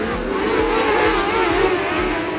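Race cars restart at Gladstone Speedway, a pack of engines roaring and revving together close by, a loud layered drone with pulsing low throbs and no talk over it.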